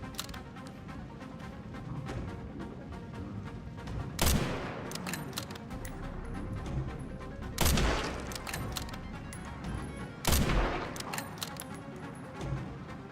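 Sniper rifle fire in a video game on casual difficulty: three loud, booming shots spaced a few seconds apart, each standing out sharply against a constant background of game noise.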